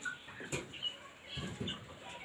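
Brahma chickens make a few faint, soft clucks in a quiet coop, with scattered brief calls and light rustling.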